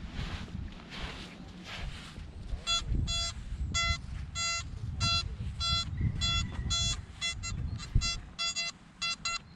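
Repeated electronic beeps from a Nokta Mini Hoard metal detector in short bursts, some rapid and stuttering, over a low rumbling background.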